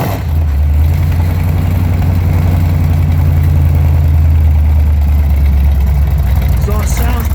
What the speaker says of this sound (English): Exhaust sounds pretty good, no smoking.